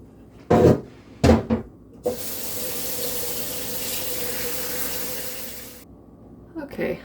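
Kitchen tap gushes steadily into a pot for buffalo barley soup with frozen neck bones for about four seconds, preceded by a few close knocks and clunks of the pot being set under the faucet.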